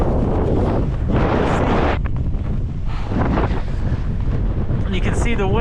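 Strong wind roars and buffets the microphone at the South Pole in Antarctica, blowing about 16 knots across the snowy plateau in extreme cold, a loud continuous gusting rush throughout with brief fluttering whistles near the end.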